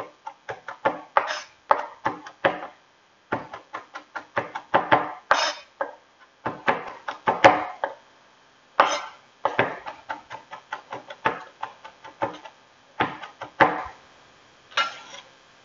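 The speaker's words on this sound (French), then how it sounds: "On va hacher nos capres." Knife chops through capers on a cutting board in quick, crisp bursts of taps broken by short pauses, close and clear with no talk.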